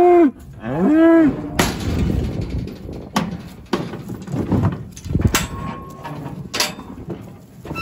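Angus cattle in a pen during weighing: one loud, close moo opens, followed by clanging metal gates, thumps and hoof shuffling, with fainter lowing in the background.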